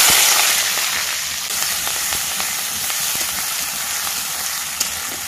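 Five-spice, chopped onion, garlic, bay leaf and green chilli crackle in hot oil with a steady, close, bright sizzle, sparse pops over a continuous hiss.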